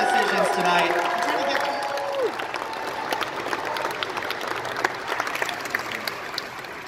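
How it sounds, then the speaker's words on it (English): An audience at the Anime Expo 2018 Masquerade applauds the judges, a dense burst of clapping that thins and fades over several seconds while a voice speaks over the start. "how about a round of applause for all of our judges who had to make some incredibly difficult decisions tonight."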